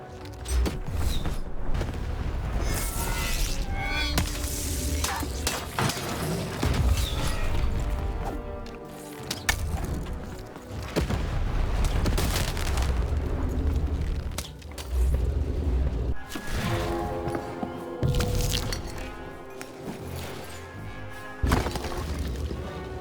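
Heavy booms, crashes and clanking mechanisms from a cannon battle in the Lost in Random video game, loud repeated impacts with rumbling and creaking between them, layered over game music with no voices.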